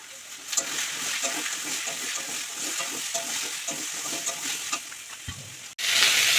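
Potatoes, onion and tomato fry with garlic paste in a pan, a steady sizzle broken by scraping stir strokes throughout, ending in a sudden louder burst of sizzling.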